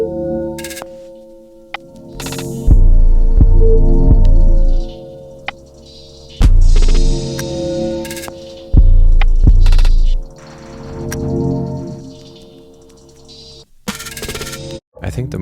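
An ambient beat with a soft melody over irregular, off-kilter drum patterns, heavy bass hits dropping in and out, and a hum running underneath throughout.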